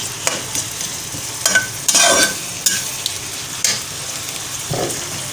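Grated onion sizzles in a pan for browning alongside beef paya cooking, with repeated loud scraping stirs of a spoon cutting through a steady frying hiss.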